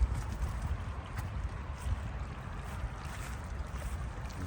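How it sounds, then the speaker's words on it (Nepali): Water flows along a stream at dusk, making a continuous low, rushing wash that stays steady and fairly soft throughout. "ल पानी बगेको छ यहाँ।"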